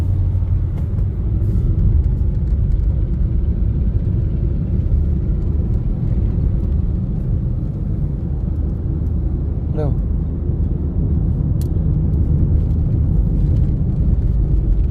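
Low, steady engine rumble and road noise from inside a Honda Brio hatchback with a manual gearbox moving through traffic, continuous and fairly loud.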